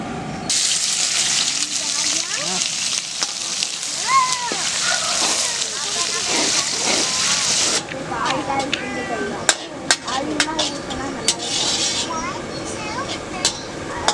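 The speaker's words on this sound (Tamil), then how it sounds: "வெங்காயம் நல்லா வதங்கிடுச்சுன்னு நினைக்கிறேன்." Onions fry in oil for a huge 10 kg batch of vegetable noodles, a loud, steady sizzle that later breaks into crackling and clattering, with voices talking over it.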